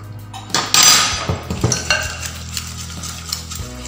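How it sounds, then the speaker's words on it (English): Whisking an egg into pineapple upside-down cake batter in a bowl: a burst of clinking, scraping strokes of the whisk against the bowl, loud at first and then settling into lighter irregular taps, with a steady low hum underneath. "Now I would add in one egg at a time and whisk it up."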